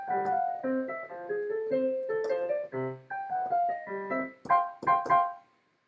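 Solo piano plays the B section of the Super Mario ground theme, a bouncy run of short, quick notes in both hands that ends on a few sharper accented chords, moderately quiet and with no voices.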